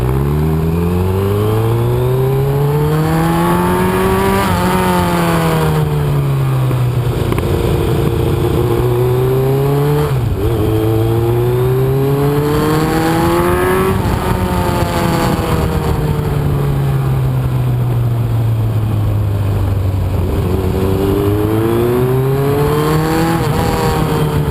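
A 2002 Kawasaki ZRX-1200R motorcycle with a Muzzy exhaust and a deceleration backfire fault is ridden up and down a road, its engine revving and easing off through repeated rising and falling gear pulls, loud and close throughout.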